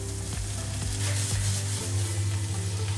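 Crushed tomatoes hit a hot pan with sweet pepper and garlic and sizzle loudly and steadily, with occasional stirring scrapes.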